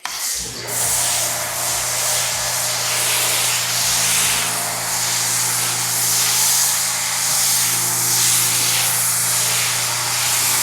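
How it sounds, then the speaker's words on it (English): Steady hissing spray of cleaner onto ceramic-coated car paint runs continuously for several seconds, a constant broad wash of sound with a low mechanical hum underneath. "I'm gonna spray a little bit of this on."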